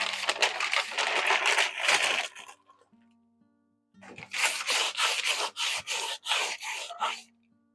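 Cured polymer clay buildup being scraped off a desk surface, loud rasping strokes in two bursts with a short quiet gap, close up, with a low background tone.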